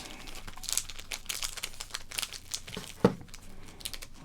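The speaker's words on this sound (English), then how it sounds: "Ah, but here comes Score with their Pinnacle, the Premier Edition. And we can crinkle that, for sure." Score Pinnacle Premier Edition baseball card pack wrapper being crinkled up close, soft irregular crackles with one sharper crunch, quiet and intimate with no talking.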